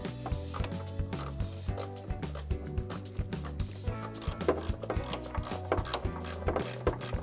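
A ratchet wrench clicking rapidly and repeatedly up close while undoing the top mount of a Miata coilover at the strut tower, steady mechanical pawl ticks with no talking.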